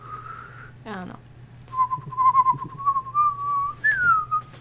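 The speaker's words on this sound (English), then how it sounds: "I'm not a good whistler." A person attempts to whistle, producing a brief warbling note followed by a longer wavering, breathy tone that slides upward at the end, fairly close and alone except for a low background hum.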